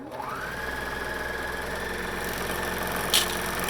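A sewing machine whirs continuously while stitching a sleeve onto a tee shirt, its motor rising in pitch early on and holding a steady close hum, with a brief click near the end.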